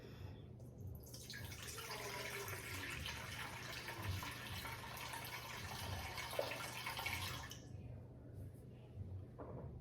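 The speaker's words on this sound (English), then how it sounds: "we will measure in 450 grams of filtered water" Filtered water pours steadily into a bowl on a kitchen scale for sourdough bread dough, a soft continuous trickle lasting about seven seconds before it stops, fairly quiet and close.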